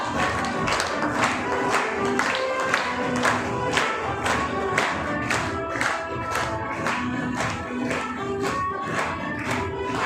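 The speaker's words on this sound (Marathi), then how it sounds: "प्रत्येक जण टाळ्या वाजवत आहे." Loud, dense applause from a large audience at a celebrity event, with rapid overlapping claps and some crowd noise throughout.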